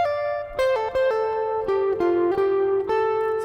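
Electric guitar lead line with the tone knob rolled partway up, clean sustained notes changing pitch in a slow sequence of about eight distinct attacks, close and alone with no talking.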